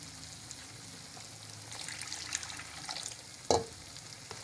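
Water pours into a pot of chicken kofta gravy, a soft steady trickle and sizzle with stirring, ending in a sharp clink near the end.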